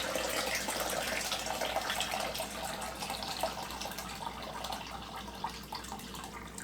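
Filtered water pours into a container for Southern sweet tea, a continuous splashing hiss that eases slightly toward the end, heard close up.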